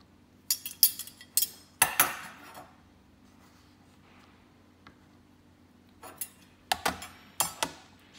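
Heavy 93.3% pure silver spoons clink and clatter onto a scale in two bursts of sharp metallic chinks, close and clear, with a quiet pause between them and no talking.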